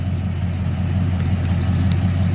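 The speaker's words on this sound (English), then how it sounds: "I got the pipes put on, got the mufflers put on. Sounds great right now." A 1963 Mercury Comet S-22 engine idles with newly fitted exhaust pipes and mufflers, giving a steady, loud, low rumble with an even pulse and no talking.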